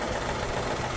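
A Maruti Suzuki WagonR K-series engine idles roughly with its first cylinder misfiring, giving a steady, close, shaking drone with an uneven knock throughout the brief moment.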